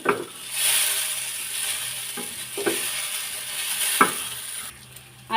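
Noodles with turmeric stirred in a hot pan, giving a steady sizzle with intermittent scraping strokes of the utensil, close and moderately loud, with no talk.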